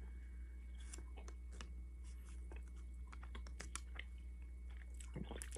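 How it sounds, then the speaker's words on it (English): Soft, close chewing of Bazooka Joe bubble gum with small wet clicks and smacks at an irregular pace, quiet against a low steady hum. "You're gonna chew it"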